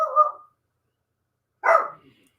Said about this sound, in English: I got to have a problem with my little dog out there.